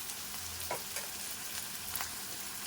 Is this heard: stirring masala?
yes